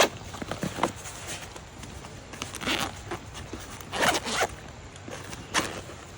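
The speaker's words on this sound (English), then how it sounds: "So let's zip that back up." A zipper drawn closed in several quick pulls along a small survival pouch, close and crisp with brief pauses between strokes, no voices.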